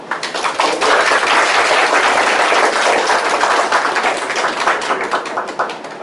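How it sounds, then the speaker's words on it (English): Audience applauds at the close of an inspiring university science lecture, a dense, steady burst of many hands clapping that fills the room loudly for several seconds before thinning slightly at the end. "let's conclude this very inspiring talk with a big round of applause"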